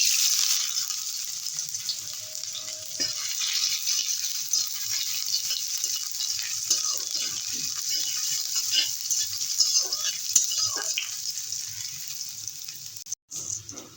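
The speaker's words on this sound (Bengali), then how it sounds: "তেলটা গরম হয়ে গেছে দিয়ে দেবো আদা কুচি" Chopped ginger sizzling in hot mustard oil, a steady close frying hiss with light clinks and stirring taps scattered throughout, continuing for about fourteen seconds.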